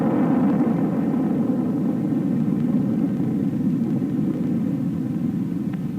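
A bomb delivery aircraft pulls up and away in an escape maneuver after releasing its bomb, heard as a steady, dense roar of engine noise with a low rumble that holds at an even level throughout.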